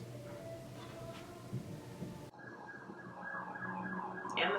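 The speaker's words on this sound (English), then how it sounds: "And the sirens. I don't think it's gonna stop." Faint wailing emergency vehicle sirens drift in from a Bronx street, rising and falling at a distance and growing slightly louder toward the end.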